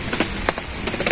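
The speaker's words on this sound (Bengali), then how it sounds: "আবার জুড়ে বৃষ্টি নামছে" Rain falling steadily over a village home during a monsoon downpour, a continuous hiss with scattered louder drop impacts spread through it, with no voices.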